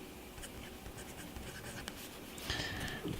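A medium steel-nibbed Citizen fountain pen scratches softly across paper in a continuous, close, quiet stroke pattern, with a slightly brighter scrape near the end.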